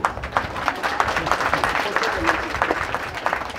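Listeners at a spiritual talk on positive living clap in a brisk, moderately loud round lasting several seconds, with voices mixed in beneath the clapping.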